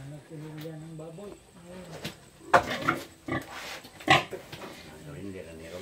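Pigs on a breeding farm grunt and squeal in short bursts, loud sharp cries breaking out over a steady background hum while a voice talks nearby.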